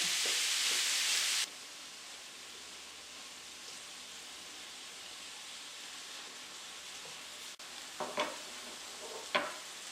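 Ground beef stirred in a pan while browning for a bolognese lasagna sauce, a steady soft sizzle with a louder burst at the start and a few sharp spoon scrapes near the end.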